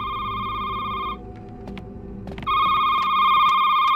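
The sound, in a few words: telephone ringing in video game Shift at Midnight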